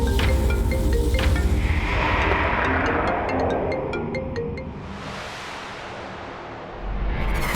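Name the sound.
phone ringing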